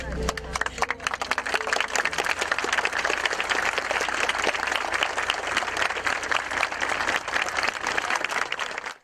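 Sustained applause from mourners as a funeral procession arrives at the São Francisco de Assis cemetery for a burial, a thick continuous clatter of many hands over nine seconds with voices murmuring beneath.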